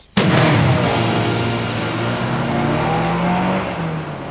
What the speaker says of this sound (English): This is the 2-litre petrol engine